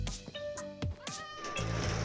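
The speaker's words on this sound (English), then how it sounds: "Fucking cats!" Cats meow repeatedly in a modded Minecraft game: several distinct rising and falling calls in quick succession, close and clear over a quiet background.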